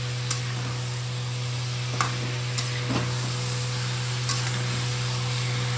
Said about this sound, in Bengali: মাংসটা একটু কষিয়ে মানে একটু হালকা ভেজে নেবো।